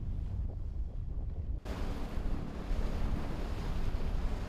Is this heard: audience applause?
no